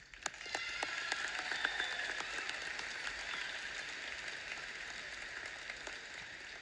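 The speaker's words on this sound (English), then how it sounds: "I think we deserve a round of applause" Steady applause from a high school graduation audience, a dense wash of clapping that swells quickly and holds evenly throughout.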